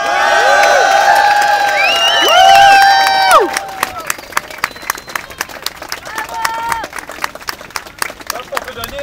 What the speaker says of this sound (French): Donc, on peut donner une bonne main d'applaudissement à tous les gens qui ont parlé.